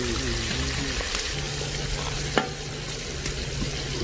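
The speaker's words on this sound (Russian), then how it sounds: "Еще жарим наши лучка." Onions fry in lamb fat for Tajik-style plov, a dense steady sizzle close up with occasional scraping stirs and clanks of a utensil against the pot.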